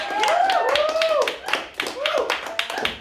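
A small audience claps for a band as they take the stage, with sharp close hand claps in bursts and voices calling out over them.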